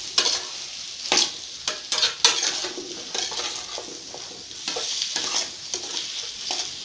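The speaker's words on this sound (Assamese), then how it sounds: "আৰু ভালকৈ লৰাই দিম।" Jackfruit curry frying in a pan while a spoon stirs it, loud close scrapes and knocks against the metal recurring over a steady sizzle, no talk.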